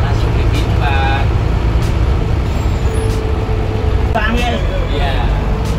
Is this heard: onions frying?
no